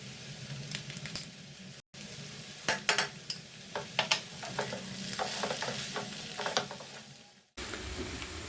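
Raw jackfruit frying with red chili sauce in a pan, a steady sizzle broken by repeated scraping stirs and spoon clinks against the metal, close and clear.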